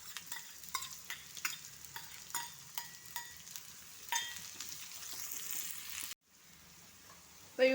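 Onions fry in hot oil with a continuous sizzle, punctuated by a series of quick spoon taps and scrapes against the pan, the sizzle swelling before a sudden drop near the end.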